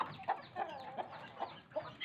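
A hen clucks repeatedly while feeding alongside her older chicks, producing short, irregular calls spaced through the moment, fairly close, over a soft scratchy farmyard background with no speech.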